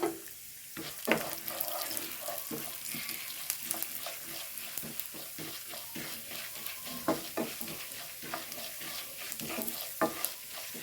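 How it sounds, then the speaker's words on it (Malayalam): Chana dal stirred and frying in a hot pan for a bitter gourd fry, with a steady sizzle throughout and repeated scraping clicks of the spoon, close and fairly loud with no talk. "കടലപ്പരിപ്പ് ഇട്ട് കൊടുത്തിട്ട് ഒന്ന് ഇളക്കി കൊടുക്കാം"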